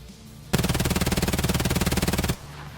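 Sustained automatic fire from a 9x19mm submachine gun in the video game Escape From Tarkov, a rapid even burst of roughly eighteen shots per second lasting about two seconds, loud and close with no talk.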